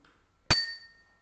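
One bright ringing clink as a glass partly filled with water is struck, the clear tone sustaining and fading over about half a second, close and alone.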